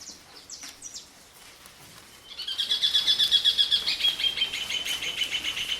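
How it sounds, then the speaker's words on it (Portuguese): Birds sing in a bright, continuous run of high chirps and trills, rising from a few faint calls into a loud, dense chorus in the second half. "os passarinhos estão cantando."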